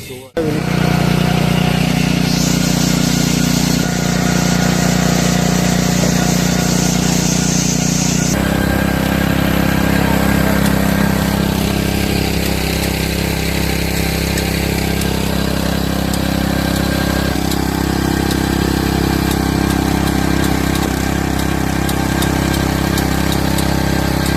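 Engine-driven auger drilling machine with a heavy-bladed 15-inch drill bit of 3 mm plate, about 3.5 feet tall, running steadily at close range with a continuous low mechanical drone throughout, with people talking over it.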